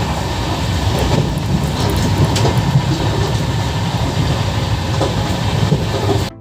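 A Tejas Express train, topping out at 130 km/h, rolls steadily along the rails with a loud, continuous rumble and faint clickety-clack throughout, with no voices.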